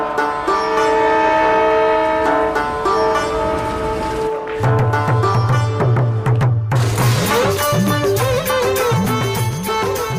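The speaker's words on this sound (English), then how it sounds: "At NJP Junction, at the bottom of the hill, the intercity Darjeeling Mail arrives from Calcutta." Darjeeling Mail intercity train from Calcutta pulling into NJP Junction at the foot of the hills, a loud, steady rumble of rail cars with a sustained horn-like tone, then a heavier low rhythmic clatter and wavering tones in the second half.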